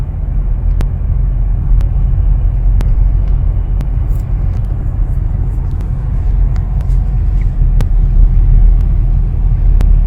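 A Hyundai Tucson drives on a road toward a cyclist during an automatic emergency braking test. A loud, steady low road rumble is heard from inside the car, with faint sharp ticks at intervals and no talking.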